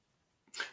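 A single sharp sneeze bursts out after a quiet moment, short and close, with a breathy hiss trailing off.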